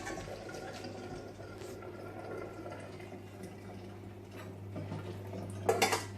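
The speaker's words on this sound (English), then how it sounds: "very carefully pouring that into a colander." Cooked cauliflower and its hot water are poured from a pan into a colander in a home kitchen, giving a continuous low splashing rush under a steady hum, followed by a brief metallic clatter near the end.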